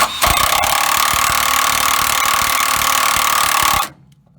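A wrench spins a nut on the steering gear of a 2003-2008 Dodge 2500/3500 in one loud, steady mechanical whirr lasting nearly four seconds, then cuts off abruptly into near silence.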